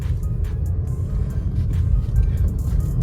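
A Maruti Brezza SUV accelerating up a hill, with a loud, steady engine rumble and road noise heard from inside the cabin throughout.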